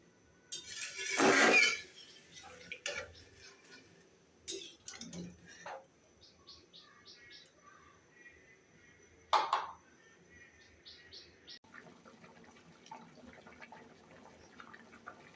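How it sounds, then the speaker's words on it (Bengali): Green chili chicken curry boiling in a pot gives off scattered soft pops and bubbling blips, a couple of louder bursts breaking an otherwise quiet, intermittent simmer. "এই তো আমার মাংসের ঝোলে বলক উঠে গেছে, দেখেন টকবক করে ফুটতেছে"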